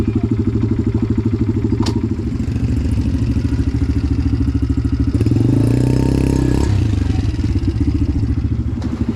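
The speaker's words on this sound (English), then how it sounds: "Then Chloe tried a strange method to get her four-wheeler across" A four-wheeler ATV engine chugs with a steady rhythmic idle on a multi-use trail, then revs harder for a couple of seconds mid-crossing before dropping back to its loping idle, close and loud.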